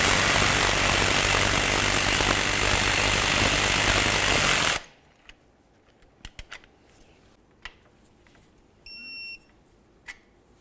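Power tool tightening a power steering pressure line bracket bolt on a 2003-2011 Mercury Grand Marquis, a loud continuous rattling buzz that cuts off sharply, leaving faint clicks, a short beep and quiet handling.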